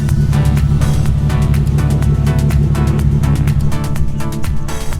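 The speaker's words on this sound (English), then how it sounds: "it's an amazing exhaust. You guys can hear it right now" A car fitted with a Fast Intentions aftermarket exhaust burbles loudly and close up, a deep rumbling note with rapid crackling pulses throughout, no talk over it.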